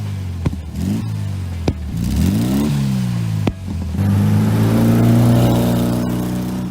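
An air-cooled Volkswagen Bug engine revs repeatedly, rising and falling in pitch between a few sharp blips, then holds a longer, louder, buzzy run near the end, heard close and without talk.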